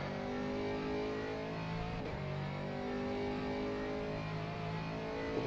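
An Aston Martin Vantage GT3 in a racing video game on Sebring's road course holds a sustained, harmonically rich engine drone at steady high revs with small pitch shifts, heard alone throughout.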